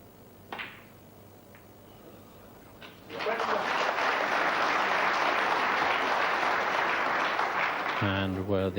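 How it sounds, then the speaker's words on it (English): A snooker crowd at the 1990 World Championship quarter-final breaks into warm applause after a shot, following a few quiet clicks; the clapping swells suddenly and stays loud and dense before a voice comes in at the end. "And worthy of applause."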